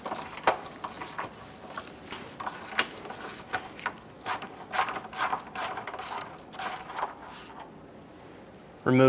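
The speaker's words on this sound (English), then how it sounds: "Using a 14mm socket, we're going to go through these two access holes and remove the two bottom nuts for the transmission mount." A ratchet fitted with a 14mm socket works on the transmission mount nuts of a 2003-2007 Honda Accord 3.0L V6, producing many short, irregular clicking bursts, close and moderately loud, with a louder knock at the very end.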